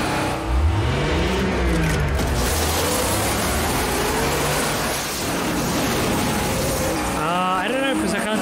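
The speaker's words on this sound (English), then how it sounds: "Is he trying to drive the truck off the road now?" A truck engine revs hard in a chase scene from the film Fire Down Below, a loud, continuous roar with rising and falling pitch sweeps, buried in dense rumbling noise like rain and thunder.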